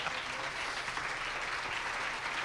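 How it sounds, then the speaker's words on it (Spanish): Steady applause from a church congregation, a continuous wash of many hands clapping, fairly distant and soft, without speech. "Denle un aplauso a Jesús"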